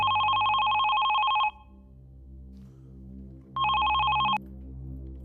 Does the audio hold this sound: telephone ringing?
yes